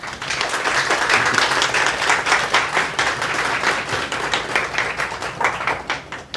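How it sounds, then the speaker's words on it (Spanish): Steady audience applause at a bookstore talk celebrating Tolkien, dense many-handed clapping sustained at an even, fairly loud level throughout with no voices. "Un aplauso, por favor."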